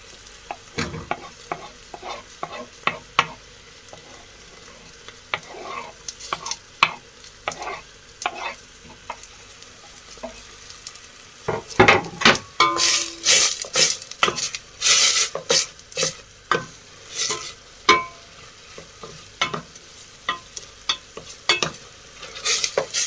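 Garlic fries in a pan next to prosciutto, a low sizzle behind frequent sharp scrapes and clinks of a utensil on the pan that grow louder and busier halfway through, with no speech.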